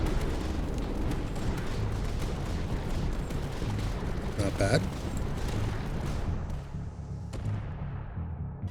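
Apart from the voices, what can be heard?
sanction cannon firing, from the video game Tower Dominion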